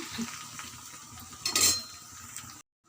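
Spices and pieces cooking in a pan for a fry dish are stirred, with soft scraping and light clinks over a low sizzle and a brief louder metallic scrape midway, close and fairly quiet before cutting off.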